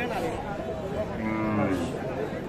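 A Sahiwal cow and her bull calf at Khochabari cattle market give a low, drawn-out moo, half buried under steady crowd chatter and market noise nearby.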